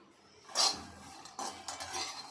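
Peanuts roasting dry in a pan for jaggery peanut laddu, giving scraping and rattling stirring strokes against the metal, one sharp burst then a few softer bursts of shuffling, close and moderately quiet with no talk.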